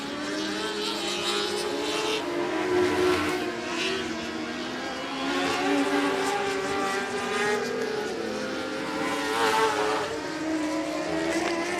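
Race cars roar steadily around the oval at 105 Speedway in the closing laps, with engines droning and shifting pitch as the pack circles the track, loud and continuous at mid distance.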